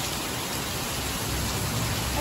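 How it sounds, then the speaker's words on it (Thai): Heavy rain pours down in Narathiwat, Thailand, a dense, constant roar of hiss, loud and close, with no pauses. "ฝนตกแห้งหลาย"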